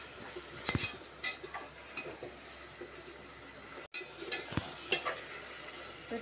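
Garam masala and biryani masala stirred through sautéed onions in a pan for prawn biryani: irregular scraping strokes of a spoon over a soft, steady sizzle, with a brief dropout midway and no one talking.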